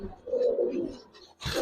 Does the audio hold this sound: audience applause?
no